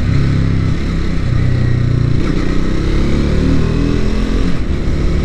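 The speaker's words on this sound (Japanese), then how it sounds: "短気筒のいいところ、こういった風にねわりかしギアがズボラでもどんどん加速していく" A Triumph Scrambler 400X single-cylinder motorcycle pulls hard while accelerating, its engine drone loud and steady with heavy wind rumble from the riding position and no pauses.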